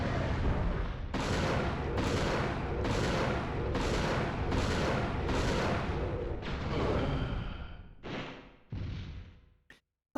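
Mine launcher firing in Dino Crisis 2: about eight loud, booming blasts in steady succession, the last few spaced farther apart, before falling to near silence.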